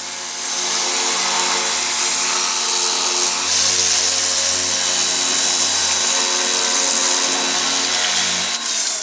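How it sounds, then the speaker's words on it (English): A loud pressure washer blasts mold and grime off an old car, a harsh continuous roar of spray close by that swells slightly midway and runs without pause, no voices. "I'm sorry, Mel, the pressure washer took off the plasti dip"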